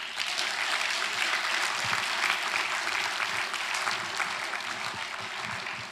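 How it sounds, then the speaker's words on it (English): Steady, dense clapping from a large audience, continuous and fairly loud for the whole stretch. "You want to give a big clap to Madam."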